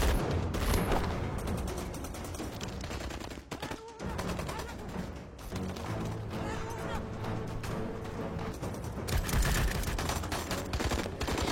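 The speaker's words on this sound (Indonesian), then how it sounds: "para anak buah Said memberikan beberapa tembakan pada Tommy dan Mike." Rapid bursts of gunfire crackle nearly nonstop, loud and close, with a brief lull midway before the shooting resumes and intensifies.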